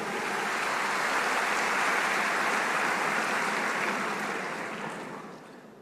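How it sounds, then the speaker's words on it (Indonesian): Broad sustained applause from an audience at an IPDN campus event in Jatinangor, dense and steady clapping from a crowd that fades toward the end. "Tepuk tangan untuk semuanya."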